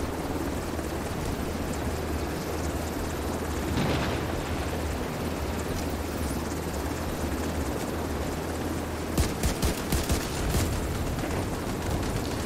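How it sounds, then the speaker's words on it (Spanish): Helicopter in the video game The Division 2, a steady rotor drone running loud throughout with a sharp burst of gunfire-like cracks near the end. "¿Helicóptero?"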